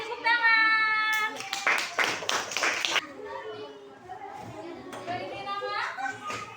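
Schoolchildren in a classroom clap their hands together in a dense burst of rapid claps lasting a couple of seconds, surrounded by a teacher's and children's voices talking before and after.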